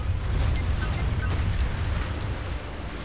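A rumbling, booming explosion in the video game Anno 2205, with crackling debris filling the clip continuously, a dense low roar throughout.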